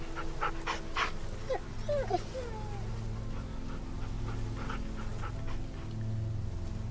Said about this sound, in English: Be nice to the puppy.